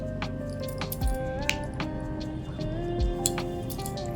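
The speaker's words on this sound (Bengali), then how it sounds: "চিকেনগুলো দেওয়ার পর আমি ভালো করে এখানে নাড়িয়ে নিচ্ছি" Chicken pieces are stirred in a cooking pan, with a spoon clinking and scraping against the metal in scattered knocks over a steady background hum.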